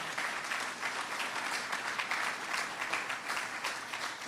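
An audience at a groundbreaking ceremony for a rapid transit line claps steadily, a dense wash of applause that holds at an even level throughout with no voices on top.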